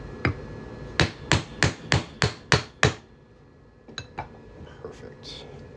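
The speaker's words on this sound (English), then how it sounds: "we're just going to hammer this on through here." A hammer strikes a silver 2012 Puerto Rico quarter, worked into a coin ring, ringing out in a steady run of seven sharp metallic blows, followed by a few lighter taps.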